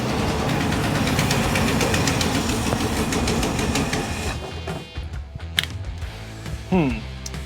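A 1969 Ford Bronco engine runs loud and steady with a dense mechanical rumble, then drops to a rougher, uneven idle with a few clunks near the end.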